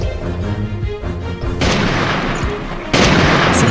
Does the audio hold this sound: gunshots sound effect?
yes